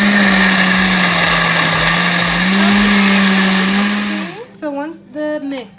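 A blender mixing carrots, eggs and oil for carrot cake gives a loud, steady, close whirring drone that cuts off near the end, and a voice follows once it stops.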